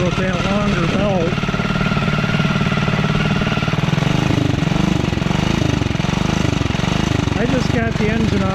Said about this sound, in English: I just got the engine off of idle right now.